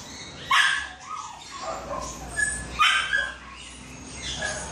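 A shih tzu at the groomers gives a few short, high yips and barks with whimpery tones at close range over a noisy indoor background.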